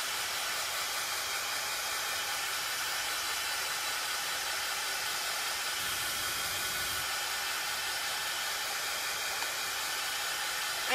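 A hair dryer blows in a steady, loud broadband whoosh to dry a paper butterfly craft, running unbroken and evenly from start to finish with no voices.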